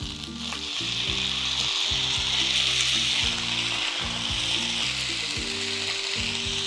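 Tomato, ginger, melon seeds and cashews sautéing in hot oil with capsicum in a pan, a loud, steady, close frying hiss that swells after the first second and holds, with faint stirring under it and no speech.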